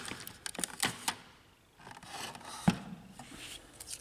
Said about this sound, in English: begin, cut this tape, if present.